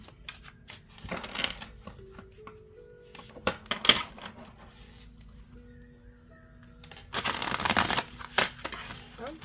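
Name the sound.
shuffling tarot cards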